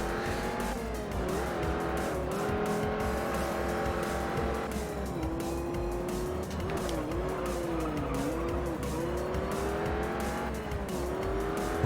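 A front-wheel-drive car races in the Juiced video game, its engine droning steadily while tires squeal and skid repeatedly through corners, loud and continuous throughout.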